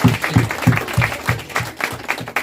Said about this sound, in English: We'll give a round of applause for all the